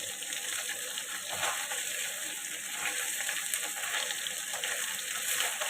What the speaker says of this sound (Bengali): এইখানে ভাত টকবক টকবক করে হচ্ছে